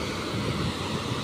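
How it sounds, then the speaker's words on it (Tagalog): A strong river current rushes past where tilapia swim, a loud dense roar of flowing water that is steady and close, with some wind buffeting on the mic. "Lakas ang agos oh."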